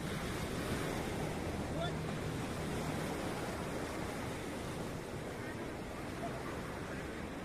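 Surf rolls onto Sundak Timur beach on the south coast of Java, a dense, even wash of waves mixed with wind buffeting the microphone, steady and moderately loud for the whole stretch, with no voices.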